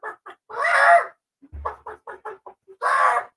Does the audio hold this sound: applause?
no